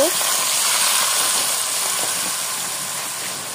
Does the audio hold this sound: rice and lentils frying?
yes